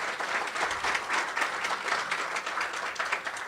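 A seated audience at a colorectal cancer advocacy event gives a congressman a sustained round of applause, dense and even clapping that holds steady throughout with no pauses.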